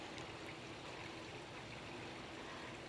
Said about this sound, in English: who knew it would one day become a water garden fountain?